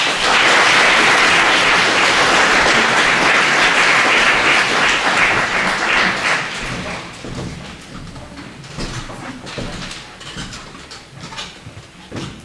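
Audience applause at a school open day, loud sustained clapping from a crowd that fades to scattered claps and a few thumps over about twelve seconds.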